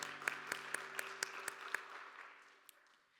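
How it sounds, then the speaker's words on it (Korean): A church youth worship congregation claps in a steady, even rhythm, about four crisp claps a second, soft and roomy over faint sustained music, and then trails off. "서로를 격려하면서 박수하겠습니다."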